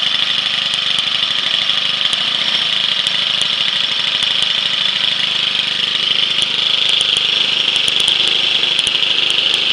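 A homemade 4-cycle 1/2 hp outboard engine runs steadily at idle, a close, continuous buzzing drone with faint knocking ticks scattered through it.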